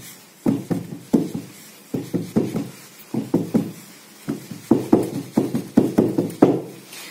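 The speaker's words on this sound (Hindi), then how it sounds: "अब हम इसे टैप करेंगे एयर बबल्स के लिए।" A pan of freshly poured biscuit cake batter being tapped on a counter to knock out air bubbles, giving sharp, close knocks in quick clusters of two to four, repeated steadily throughout.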